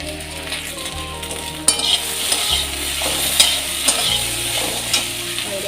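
Okra fries in a pan and is stirred, now slightly browned, with a loud, steady sizzle up close and repeated scraping and clinking strokes of the spoon against the pan.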